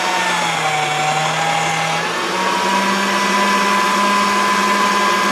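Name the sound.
pasta machine rolling Premo polymer clay slice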